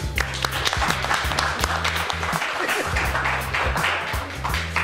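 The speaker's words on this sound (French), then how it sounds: "Donc je vous prie vraiment de l'applaudir." Applause from the audience at a Guinean inter-state soccer tournament in New Jersey, continuous clapping over low, steady rhythmic background music.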